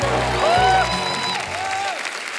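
A studio audience on a comedy talk show claps and cheers in welcome for actress Parineeti Chopra, loud steady applause with music underneath.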